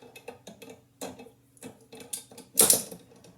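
Metal clicks and sliding clacks of a Spanish Mauser rifle bolt being worked and closed on a headspace gauge, several close, sharp mechanical clicks ending in a louder snap near the end, alone without speech.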